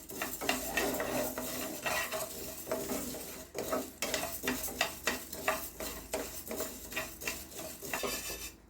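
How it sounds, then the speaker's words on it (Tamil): Coriander seeds for sambar powder are dry-roasted in a pan while being stirred, with repeated scraping strokes and a soft rattle of seeds under a faint sizzle, all close and rhythmic. "நல்லா வாசனை வர வரையும் வறுத்துக்குருவோம்"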